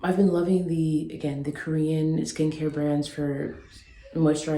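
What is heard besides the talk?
No everyday noises stand out.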